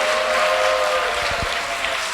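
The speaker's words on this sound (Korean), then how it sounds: "함성과 함께 박수." A church congregation at an evening New Year revival service claps in a sustained, even wash of applause, moderately loud and continuous, with a few heavier thumps partway through.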